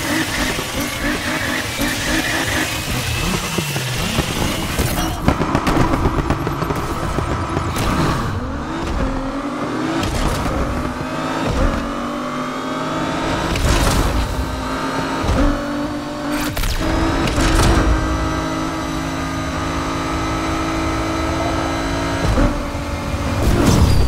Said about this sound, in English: Znači čuje se čak, kao da se čuje neki kompresor